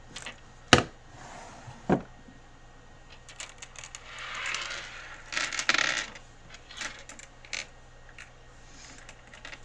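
Crystals are picked up and set down in a few sharp clinks, with two distinct taps early on and softer rustling and handling noises after that, close by in a quiet room.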